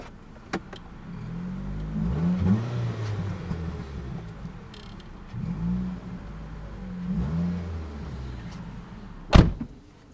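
A car engine revs repeatedly as the driver tries to back up, with several rising and falling bursts of acceleration, a door clunking near the start and a sharp thump near the end, no talking.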